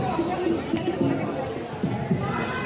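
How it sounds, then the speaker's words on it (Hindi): A crowd gathered at an outdoor tree planting event for Childline Lucknow chatters in a steady hubbub, overlapping voices filling the space at moderate loudness with no single sound standing out. "ये सारी भीड़ यहाँ पर इकट्ठा हुई है"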